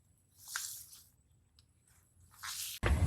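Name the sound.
kneading chhana cheese by hand for rasgulla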